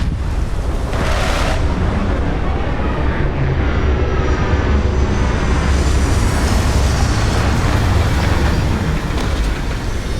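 A spaceship touching down in the game Starfield, a loud, dense engine roar with rumbling low end and sweeping whooshes that holds steady throughout without a break.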